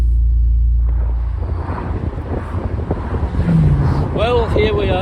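A modern Morgan Plus Four car drives along an open road, with steady low engine rumble and wind buffeting inside the cabin, and a voice talking over it toward the end.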